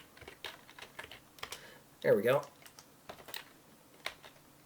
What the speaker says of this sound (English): I'm not good at typing one-handed.